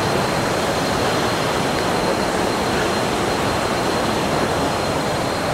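The Pala U waterfalls near Hua Hin rush steadily, a dense, even wash of flowing water filling the scene without pause.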